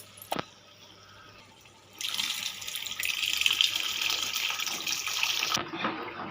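Water gushes steadily from a kitchen tap for several seconds, loud and close, after a brief knock, then cuts off abruptly.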